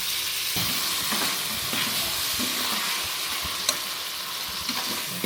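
Onions and tomato sauté in oil in a pan, giving a loud, continuous sizzle throughout with occasional stirring scrapes and small pops, close and without speech.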